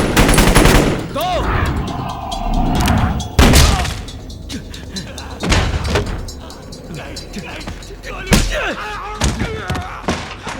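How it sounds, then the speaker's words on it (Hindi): Gunfire rings out in a Bad Boys II action scene, with sharp loud bursts and thumping impacts in scattered volleys and shouting voices between shots. "गोलियां, काफी गोलियां चल रही थी"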